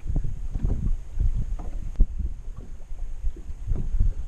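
Gusty wind on a windy day out fishing on the water buffets the microphone, giving irregular low rumbling bursts that rise and fall throughout, with one sharper thump midway and no talking.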